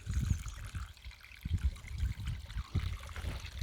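Water trickles and splashes in uneven bursts as it is poured over an 1901 Queen Victoria one-penny coin to rinse it outdoors in an English meadow, close and fairly quiet with no talking.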